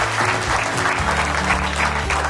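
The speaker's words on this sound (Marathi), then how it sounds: "त्याच्यासाठी जोरदार टाळ्या." Loud applause from a group at a closing gathering, dense steady clapping filling the whole moment with faint music or hum underneath.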